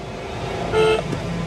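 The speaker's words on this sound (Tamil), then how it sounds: "இப்போ பார்த்தீங்கன்னா ஏத்தாப்புலேருந்து நமக்கு ஹார்ன் அடிச்சிருக்காங்க." One short, clear car horn honk from an oncoming vehicle at a hairpin bend on a mountain road sounds over a low car engine hum, then the engine carries on alone.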